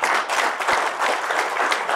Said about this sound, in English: Can we have a round of applause for Virat Kohli